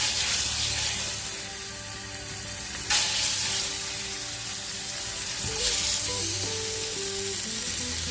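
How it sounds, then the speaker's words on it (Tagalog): Pork sizzles steadily in a small amount of hot oil for dry-style adobo, a dense, continuous crackle with occasional brief flare-ups and soft stirring sounds. "So prituhin muna natin to ating pork."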